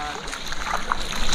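Splashing and sloshing through deep flood water in a street at night after heavy rain, a continuous wet churning close by, with a voice speaking over it.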